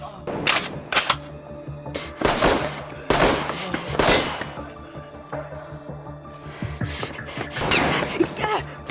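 Bursts of gunfire in an action film, sharp cracks and rapid volleys from a shooter taking aim at long range, interspersed with quieter tense moments and scattered effects.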